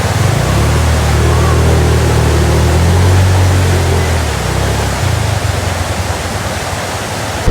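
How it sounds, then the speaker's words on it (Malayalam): A hill stream rushes beside a path, a loud, dense and steady watery roar close by. A low engine-like hum sits underneath for the first few seconds. "ഫുള്ള് നല്ല രസമുണ്ട് കേട്ടോ ഈ അരുവി ഇങ്ങനെ വരുന്നത്"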